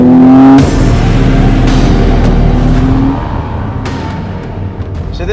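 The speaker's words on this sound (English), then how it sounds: "So now we're in a 2015 Porsche 911 Turbo S." A 2015 Porsche 911 Turbo S engine roars loud and close, holding a strong steady drone before easing to a lower hum, heard from inside the car.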